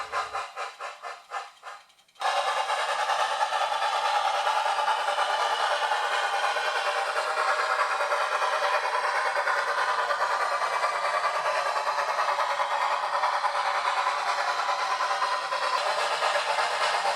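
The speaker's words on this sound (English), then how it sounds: "The hauler's power is hustled and the train departs north." A model railroad train rumbles and clatters briefly, then a loud, continuous hiss of steam and rolling wheels takes over and holds steady as it pulls away.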